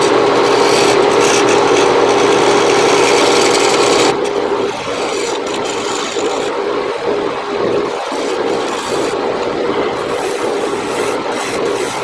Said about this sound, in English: I'm just going to do a little bit of scraping and see what that turns into